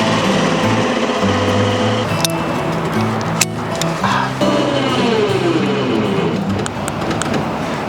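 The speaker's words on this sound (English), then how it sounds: "Hopefully the winch will pull it up with the 3 flat tires" An electric winch strains to pull an abandoned AMC Eagle with three flat tires onto a trailer, a whirring, stepping motor drone with sharp clicks and clanks, heard close and continuous throughout.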